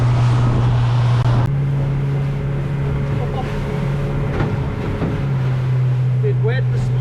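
A boat engine drones steadily while the hull bumps over rough open water on a fishing trip to the islands, with wind buffeting the microphone and occasional water splashes.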